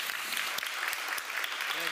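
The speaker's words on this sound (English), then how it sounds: "So I really want to give him a big applause." An audience claps in a short burst of applause for an honoree at a closing event, with steady, moderately loud clapping and some voices mixed underneath.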